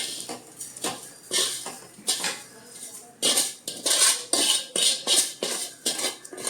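Vermicelli tipped into hot milk in a pot while making semiya payasam, giving a run of close metallic clinks and scrapes against the vessel with a rhythmic series of louder knocks in the second half, with no talking.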